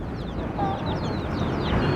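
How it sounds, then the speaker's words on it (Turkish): An Indian rooster in a coop gives a short, weak crow, faint and brief against farmyard background noise, with other fowl clucking nearby. "Hint horozlarının boyunları uzun olmasına rağmen ötme kabiliyeti çok düşüktür, çok zayıftır"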